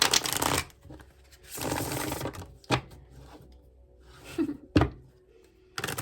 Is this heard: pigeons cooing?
no